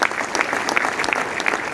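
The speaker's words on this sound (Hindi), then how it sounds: "जोरदार तालियां होनी चाहिए" Hall audience applauding at a motivational talk, brisk, close clapping from a moderate crowd, continuous and fairly loud with individual claps standing out.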